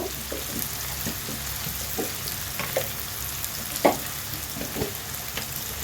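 Whole garam masala, including a bay leaf and a cardamom pod, sizzles in hot oil: a steady, close frying hiss broken by sharp crackles and pops, with no talking.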